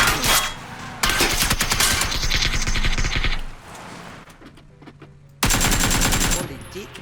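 Gunfire in PUBG, with loud bursts of rapid shots that stop and start across the stretch, a quieter lull in the middle, and then another burst near the end.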